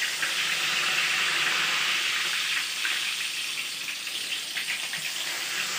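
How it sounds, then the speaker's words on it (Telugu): Whole bitter gourds frying in oil, a dense, continuous sizzle and crackle at steady loudness, heard close without any talking. "ఇలా కాయలు కాయలుగా వేపుకుందాము."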